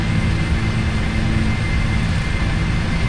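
Simulated Boeing 747 jet engines at reduced takeoff thrust in the PMDG 747 for Prepar3D, a loud, steady, broadband roar with a low rumble that holds constant throughout.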